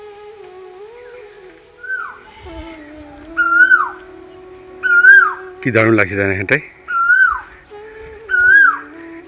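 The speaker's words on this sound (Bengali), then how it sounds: "একদিকে কোকিল ডাকছে," A cuckoo calls repeatedly in a quiet village setting by lakes and the Ganges, clear bright phrases recurring every second or so, with a person talking nearby.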